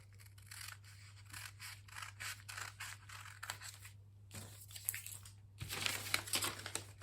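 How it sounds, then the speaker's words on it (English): Scissors snip through fabric to cut a neckline, a steady series of close, crisp cuts with a soft rustle of cloth, pausing briefly before a louder stretch of cutting and crinkling, over a faint low hum. "Then you cut the neck."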